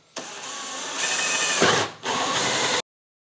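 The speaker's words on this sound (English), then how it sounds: "So we'll go ahead and drill this one." A power drill whirs steadily while drilling a hole in a battery enclosure, its pitch shifting as the bit bites into material, with a brief dip before it spins up again and stops.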